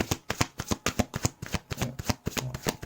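A deck of playing cards is shuffled and cut in a quick run of crisp, rhythmic riffling snaps, close and fairly loud, with no talking.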